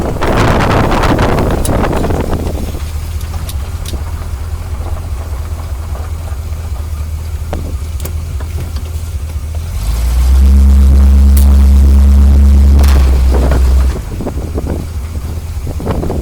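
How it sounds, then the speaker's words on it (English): A 1974 Corvette Stingray with no interior driving along, a low engine drone with loose rattles and wind buffeting throughout, swelling into a louder, steadier roar for a few seconds near the end. "it's so rattly in here because there's no interior"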